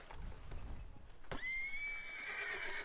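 A horse in the video game Red Dead Redemption 2 lets out a single loud, high whinny that rises sharply and trails off, preceded by soft hoof clopping.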